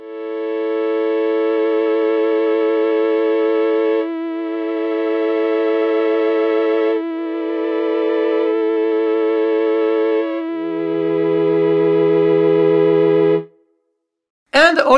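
A sustained electronic organ-like tone from a 1939 Novachord synthesizer emulation with a wavering vibrato, holding chords that shift every few seconds, ending abruptly with a brief cutoff.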